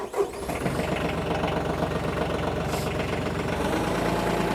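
A TYM F36H hydrostatic tractor engine cranks and catches with a brief burst at the start, then settles into a loud, steady mid-pitched diesel idle that runs on without voices.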